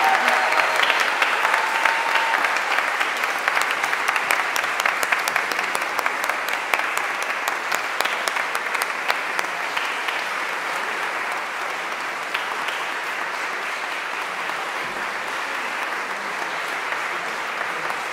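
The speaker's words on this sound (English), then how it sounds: "give them a round of applause too" An audience at an aria competition claps steadily for about eighteen seconds, a dense, even patter of many hands that slowly thins without fading out.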